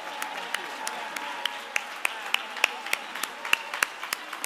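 Gala audience clapping for the Chris 180 staff at the CHRIStal Ball: a steady, moderately dense round of applause with distinct individual claps standing out, filling the whole stretch with no talk.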